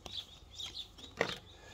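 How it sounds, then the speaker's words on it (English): Birds chirp and sing outdoors, carried in through an open door; a few thin, high calls repeat faintly across the moment, with one slightly louder call near the end, and no talking. "My door is open, so then you can hear birds outside."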